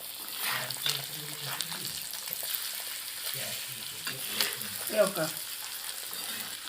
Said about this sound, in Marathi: असं तेल टाकून घेऊ आपण एक वेळा, म्हणजे छान तळतंय.